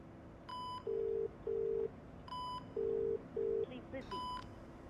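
A phone call being cut off, with a repeating electronic busy tone in steady on-off pulses under a faint ringing-style chirp, sounding thin and close like a handset earpiece; no one talks.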